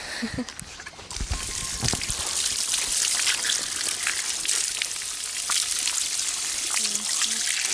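Water is poured and splashed for washing up outdoors on a hot day in the village of Kovalyn, Kyiv region. It makes a steady, close trickle and spatter with sizzling texture, and faint voices may sit in the background.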